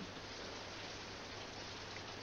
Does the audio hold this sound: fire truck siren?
no